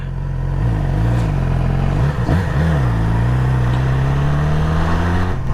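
A loud 2017 Yamaha R6 sport motorcycle engine running close up, its pitch wavering and rising with brief throttle blips and a sustained higher rev near the end.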